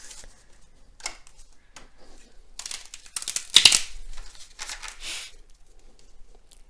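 A deck of tarot cards is shuffled nearby, making soft, irregular riffling and crinkling bursts with brief quiet gaps and no talk.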